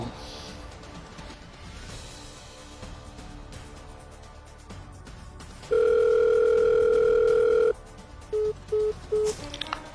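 After background murmur, a loud steady phone tone sounds for about two seconds, followed by three short repeated beeps of a disconnected line.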